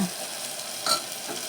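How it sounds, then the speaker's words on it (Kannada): Food frying and being stirred in a pan, a soft steady sizzle with a brief scrape of the spoon partway through, close and alone. "ಈ ಥರ 2 ನಿಮಿಷ ಫ್ರೈ ಆಗಿದೆ."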